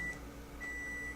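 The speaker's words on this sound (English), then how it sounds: "I heard that beeping." Kitchen appliance, likely a microwave, giving two short high electronic beeps separated by a pause, faint and heard alone against a quiet room hum.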